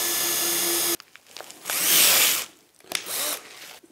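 A power drill bores deeper into a hole already punched through the material. A short burst of steady tool noise gives way to grinding and rubbing as the bit catches, then a second, softer pass, all close up.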